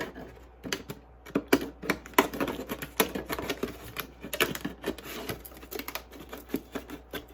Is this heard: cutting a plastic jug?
yes